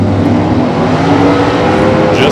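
Loud, steady engine roar from drag racing cars, a 1967 Camaro and a 1969 Mustang with a 393 cubic inch engine, rumbling close by without a break, a faint higher whine rising near the end.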